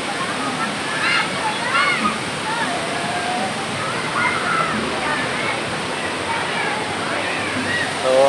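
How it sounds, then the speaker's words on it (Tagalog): Tinandayagan Falls in Camarines Sur sends up a continuous rushing roar of flowing water, and people talk over it now and then. "continuous lang yung daloy ng tubig."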